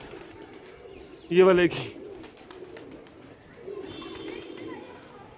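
Pigeons from a large backyard flock give soft, low coos, with a brief louder flutter-like burst near the start and faint chirps around it, while someone talks over the birds.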